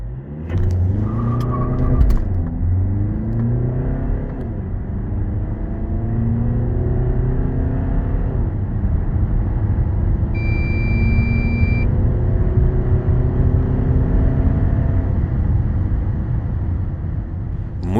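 A Skoda Kodiaq 2.0 TDI diesel with 150 hp and a seven-speed DSG gearbox accelerates hard from standstill to 100 km/h. Its engine note climbs steadily through each gear, with several rising sweeps, and the rumble is close and continuous.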